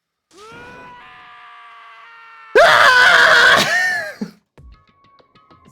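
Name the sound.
character screaming in Danganronpa video game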